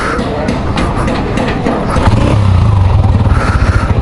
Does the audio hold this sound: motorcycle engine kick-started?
yes